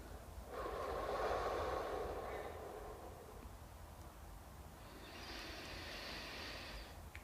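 Two long, forceful exhales blown out during a stretching exercise, breathy and close, the first stronger and the second softer, separated by a quiet pause, with no talking.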